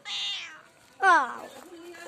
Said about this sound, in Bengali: আমার একটা বিড়াল আছে, এই ম্যাও।